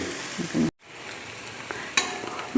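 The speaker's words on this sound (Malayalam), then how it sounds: "ഇപ്പം നമ്മുടെ ഇതേ ഉണക്കച്ചമീൻ നന്നായിട്ട് മുരിഞ്ഞിട്ടുണ്ട്" Dried prawns fry and crackle in a pan as they are stirred. The sizzle is steady and close, with one short break and a few louder scrapes and clinks, and no one speaks.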